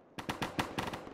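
Video game gunfire rattles off in a quick burst of about six sharp shots, evenly spaced and fairly loud, with no voices over it.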